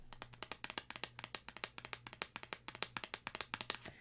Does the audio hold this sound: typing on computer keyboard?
no